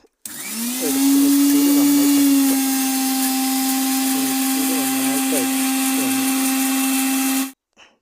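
A kitchen mixer grinder spins with water inside to clean its blades, giving a steady, loud, high whine that starts abruptly, holds for about seven seconds and then cuts off.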